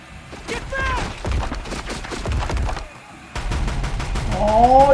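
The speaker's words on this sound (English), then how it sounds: "all in the machine gun now" Rapid automatic gunfire rattles in dense bursts through a Horizon Zero Dawn battle, loud and close, with thuds and splintering impacts, a short lull, then renewed firing under game voices.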